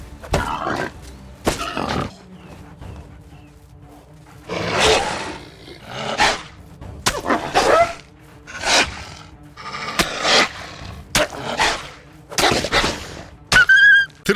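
Hunted animals in a medieval survival video game let out rough, growling roars and grunts in repeated bursts, mixed with thuds and wooden knocks, moderately loud with no talking.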